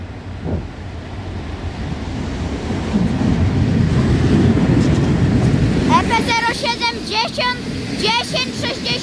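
An unidentified train pulls into Opole Główny station with a rising, rolling low rumble that grows close and loud, followed by sharp, wavering high-pitched squeals over the continuing noise.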